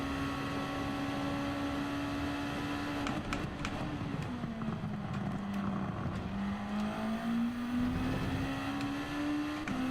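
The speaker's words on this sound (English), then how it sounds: "The engine sounds don't bother me in Gran Turismo" A race car engine in Gran Turismo 7 drones steadily through the Autopolis full course, its pitch holding, then dipping and climbing again over a constant background hum, with a few faint clicks along the way.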